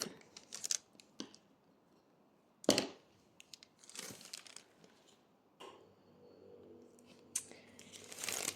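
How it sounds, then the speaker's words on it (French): Scissors trimming excess vinyl after a Cricut cut, with a few sharp, crisp snips and rustles of the sheet separated by quiet pauses, close and fairly faint overall. "Quand c'est comme ça, je coupe le surplus."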